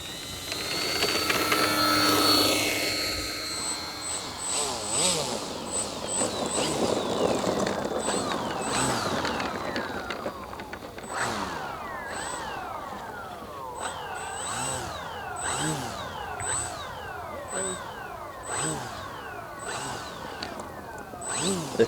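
A radio-controlled model plane flown by another club member at a flying field gives a steady buzzing electric motor whine that rises and falls as it passes, with a second model's drone and faint chirps behind it.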